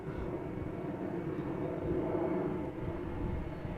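An Airbus A319 airliner at Amsterdam Schiphol Airport gives a faint, distant, steady jet rumble that holds evenly across a few seconds with no voices.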